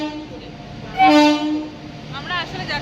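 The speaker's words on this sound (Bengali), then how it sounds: "ট্রেন চলে এসছে, ট্রেন চলে এসছে। পুরী এক্সপ্রেস।" The Puri Express arrives at a station, a brief loud horn toot sounding over the low rumble of the approaching train, with people talking nearby.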